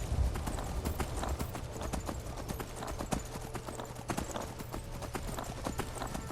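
Horse hooves clip-clop in a steady, continuous rhythm while riding through the open world of Skyrim, close and fairly loud throughout with no pauses.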